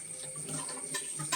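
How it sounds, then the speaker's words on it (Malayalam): Spring water runs during the monsoon, a continuous trickling and splashing flow that sounds close and moderately loud, with no talking. "ഇങ്ങനെയാണ് ഉറവ് വെള്ളം."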